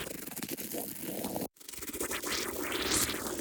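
Crackly sound design layer from a Radium sampler played on a Roli Lightpad Block: dense, noisy crackle and hiss with a brief dropout midway, then swelling brighter grainy textures, fairly quiet and alone.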